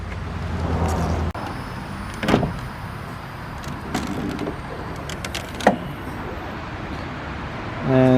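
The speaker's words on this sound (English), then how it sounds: "we're going to pop our hood up right over here" A BMW E39's hood is popped open in a garage before an oil change: one sharp latch click, then a few faint clunks over a low background hum.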